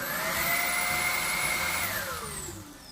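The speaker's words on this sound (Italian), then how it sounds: "eccola qua l'aspirapolvere" A Xiaomi Mi Handheld cordless cyclonic vacuum cleaner whirs close by with a high steady motor whine, then the pitch glides downward as it powers off.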